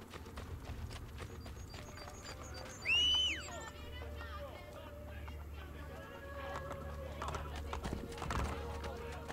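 A horse in the Renaissance-era game Assassin's Creed Brotherhood trots with steady clip-clop hoofbeats and gives one sharp, loud whinny, over a faint crowd murmur and occasional speech.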